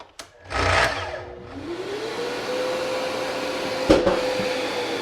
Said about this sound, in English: So this is a great saw. It's hooked up to the vacuum.